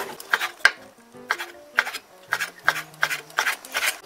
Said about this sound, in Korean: 소고기 조금 연한 부위 살치살로 이렇게 두 쪽을 송송 썰어서 넣을 거고요.